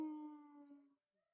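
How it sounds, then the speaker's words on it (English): Dogs whine and howl in the background, a single drawn-out tonal howl that fades after about a second, faint and distant. "Oh, dogs in the background starting to whine."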